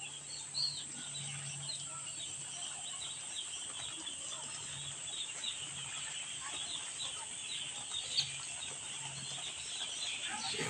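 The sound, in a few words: two-day-old chicks peeping on a poultry farm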